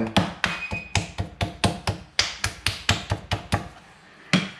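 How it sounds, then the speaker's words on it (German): A piece of steak is pounded to tenderize it in a home cooking-show kitchen, about seventeen sharp, evenly spaced knocks in a brisk rhythm, fairly close and alone, with a short pause before the final blow. "Im Gegensatz zum Rumpsteak klopfe ich den ein bisschen."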